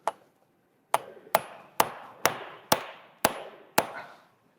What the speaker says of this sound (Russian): Ну, теперь устанавливаем обратно. И его подзабиваем.